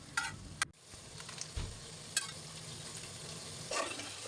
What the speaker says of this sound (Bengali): তবে তার আগে আমি কিছু মরিচ ভেজে নিচ্ছি